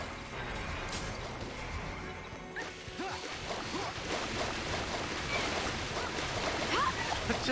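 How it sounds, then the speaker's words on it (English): Water attack effects in the Final Fantasy XIII battle, a continuous churning, splashing wash with crashing hits and surf-like surges, loud and sustained, with talking mixed in. "It's just all the water noises."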